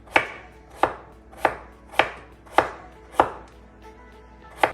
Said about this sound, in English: I'm just gonna peel it really, slice it really thinly